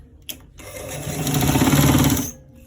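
A sewing machine stitches a collar roll in one loud, close burst of rapid whirring that rises, holds for under two seconds and stops, with a small click just before.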